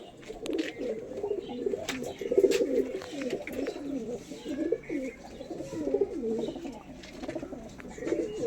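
Domestic pigeons, including Rampuri birds kept at a home in Andhra, coo repeatedly close by in overlapping low throaty phrases, with faint background sounds.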